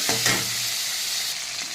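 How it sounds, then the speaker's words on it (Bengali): A hilsa fish head being turned and fried in a pan gives a steady close sizzle with a few stirring scrapes near the start, continuing evenly to the end without speech. "এখন এটাকে ভালো করে উল্টে পাল্টে দিয়ে আমি ভেজে নেব মাছের মাথাটাকে।"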